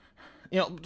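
A voice imitates heavy panting inside a toilet stall, a short breathy gasp rising into a loud voiced exhale, close up and brief.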